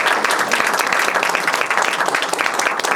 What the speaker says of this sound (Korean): 조숙현 교수님께 큰 박수 한 번 더 부탁드리겠습니다